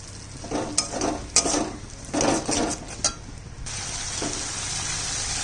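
Yogurt goes into a prawn curry cooking in a pan over lowered gas, with clattering spoon-against-pan stirring bursts over a soft continuous sizzle.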